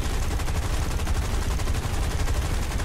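Gunfire from War Thunder aircraft and ground combat, a dense sustained rattle of rapid machine-gun bursts running loud and unbroken throughout, with no talk over it.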